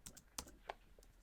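A computer keyboard is typed on briefly, a handful of faint, close key clicks in an irregular short burst.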